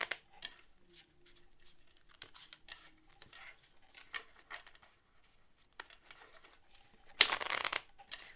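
Tarot cards riffled and shuffled in short bursts with soft slaps and pauses, ending in one loud, fast riffle near the end.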